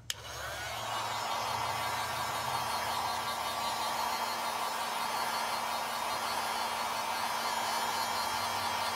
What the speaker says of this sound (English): now I'm gonna hit it with my dryer.